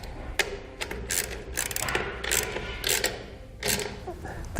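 A 10 millimeter ratchet tightening nuts on a trailer light stud, a series of close, quiet clicking bursts with short pauses between strokes.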